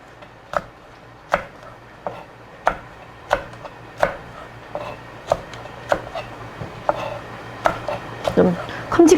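Knife chopping Cheongyang chili peppers into large pieces on a cutting board: about fifteen sharp, evenly spaced chops, close and clear, with no talk.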